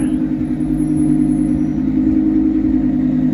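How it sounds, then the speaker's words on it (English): A supercar idles nearby on a cold downtown Toronto evening, its exhaust giving a steady low rumble with faint throaty flutter, loud and continuous. "We got a fart box of a supercar here."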